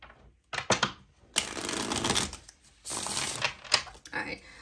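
Tarot cards being shuffled in several quick riffling bursts, close and crisp, separated by short pauses.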